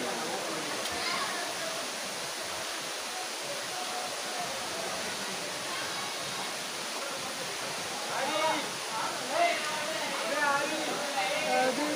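At Tada waterfall, water rushes in a steady broadband roar, with voices speaking intermittently over it.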